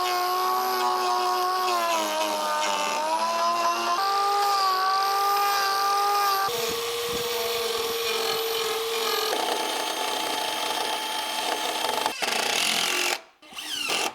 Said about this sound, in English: So a careful drilling and jigsaw did the trick.